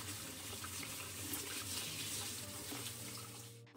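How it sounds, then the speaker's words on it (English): Tap water runs steadily over a whole watermelon in a sink, a continuous close hiss and splash with no pauses. "Wash the watermelon well under running water."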